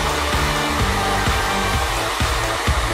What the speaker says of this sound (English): Hair dryer time. This should speed things up.